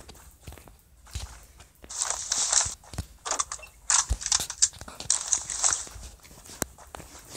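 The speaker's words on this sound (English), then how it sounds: "Some footsteps over there." Footsteps in the battle royale game Rules of Survival crunch along in a rapid series of gritty steps, close and loud, with brief pauses between bursts.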